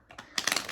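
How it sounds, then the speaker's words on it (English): A deck of UNO cards is shuffled close by: a few soft riffling flicks, then a quicker burst of crisp card snaps, brief and fairly quiet. "So I'm currently shuffling the cards"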